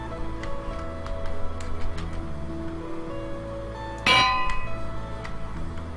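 A bell in the Minecraft video game rings once, a single bright metallic clang with a brief ringing tail, heard over a quiet steady background of game music and ambience.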